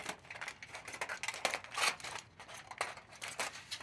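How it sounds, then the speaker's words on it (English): Scissors snip through heavy-duty foil in a craft project, a series of short, crisp cutting bursts recurring at an irregular rhythm, close and fairly quiet with no talking. "Then I'm going to go back with my scissors"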